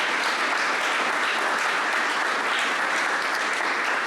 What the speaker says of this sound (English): Let's give a round of applause for the panel and Ms. Harman.